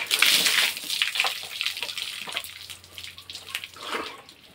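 Water splashing and pouring during laundry washing while bathing, close bursts of sloshing and running water that swell and fade, with a steady low hum underneath.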